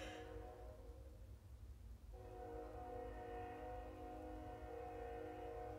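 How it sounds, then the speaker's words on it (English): A train passes with a loud rumble, and a sustained horn sounds midway and holds steadily to the end, close and without speech. "Hold on. I got a train."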